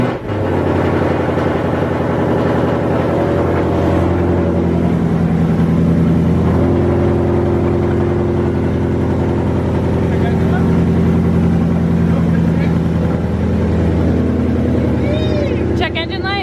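A 2018 Mustang engine with a newly installed Whipple supercharger runs steadily with a deep, rough drone and a tick, very loud, and voices talk over it.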